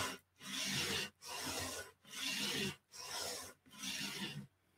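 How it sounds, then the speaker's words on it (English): Paper being burnished down onto glue for a junk journal, five steady rubbing strokes in an even back-and-forth rhythm, close and quiet, with no talking. "make sure I burnish this down really well here in the center and get all that glue squished in there"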